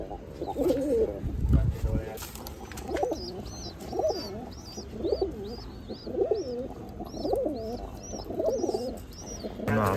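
Imported UAE pigeons coo in a steady, repeating rhythm, several soft throaty coos a second or so apart. They are close and clear, with a low murmur of voices and background noise underneath.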